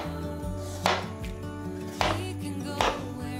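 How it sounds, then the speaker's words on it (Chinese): A peeled potato is cut into slices with a knife on a board, giving three distinct chopping thuds about a second apart, moderately close, over a steady background hum. "把馬鈴薯切片"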